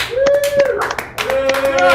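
A studio audience at a Monday night comedy show claps in short, scattered bursts while a host keeps talking loudly over them.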